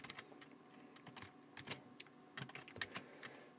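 Keys clatter on a computer keyboard as an Arduino program is typed in, a steady run of quick, soft clicks at close range with no talking.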